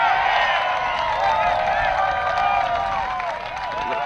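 A baseball crowd at an Auckland Tuatara versus Brisbane Bandits ABL game cheers a high fly ball toward the third base stands, a loud, sustained roar of many voices with rising yells throughout.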